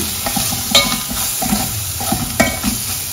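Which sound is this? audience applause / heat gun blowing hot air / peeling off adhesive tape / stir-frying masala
stir-frying masala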